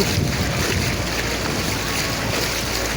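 River water swollen by heavy rain rushes past as people wade across it; a constant, broad roar of flowing water dominates, heavy with wind buffeting the microphone.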